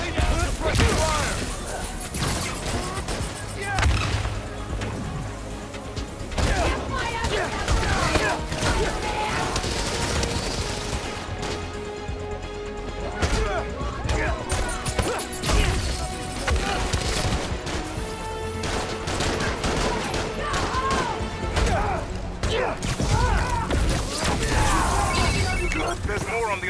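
Sustained gunfire and crashing impacts in Spider-Man: Miles Morales, dense shots and mechanical clatter running continuously under a busy action soundtrack, with voices speaking throughout.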